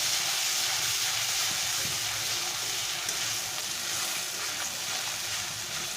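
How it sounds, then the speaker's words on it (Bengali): A spice paste of green chili, ginger, garlic and onion fries over medium-low heat in a pan for a prawn dish, giving a steady, even sizzling hiss throughout. "মশলাটাকে ভেজে নেব যতক্ষণ না এর কাঁচা গন্ধ যায় ততক্ষণ আমি মশলাটাকে ভাজবো"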